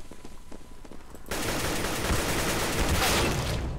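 Automatic gunfire in the video game CS:GO: scattered sharp shots at first, then a sudden dense, sustained burst of rapid fire that stays loud and close to the end.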